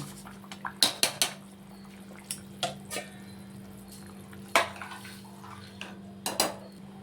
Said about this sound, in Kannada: ನೋಡಿ ಈಗ ತೊಳೆದಿಟ್ಕೊಂಡಿರೋ ಅಕ್ಕಿ ಹಾಕೊಳ್ಳೋಣ